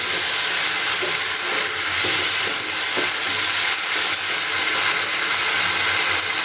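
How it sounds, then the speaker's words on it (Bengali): Spice masala frying in a pan for a Bengali tangra fish curry, a loud continuous sizzle with faint stirring scrapes, close and alone. "মশলাটা একদম কিন্তু ভাজা ভাজা হয়ে গেছে"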